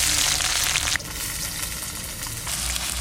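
Chopped onion hits hot white oil in a wok, giving a loud, steady close-up sizzle that eases slightly after the first second and keeps crackling throughout, no voices.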